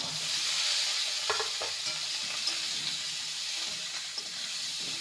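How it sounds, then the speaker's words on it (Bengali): Pointed gourd (parwal) and potatoes frying in a pan over a lowered gas flame, giving a steady close sizzle and hiss with occasional soft stirring scrapes, and no talking. "পটলটাকেও ভালো করে ভেজে নেব গ্যাসের ফ্লেমটাকে কমিয়ে ভেজে নিতে হবে"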